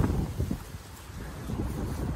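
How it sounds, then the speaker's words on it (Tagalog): Strong wind roars steadily against the microphone, a dense low rumble with no voices. "Lakas ng hangin."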